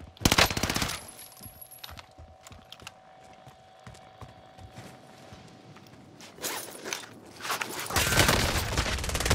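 Incoming gunfire in Call of Duty Warzone, loud rapid bursts at the start and again near the end, with quieter scattered shots and background rumble in between and no talking.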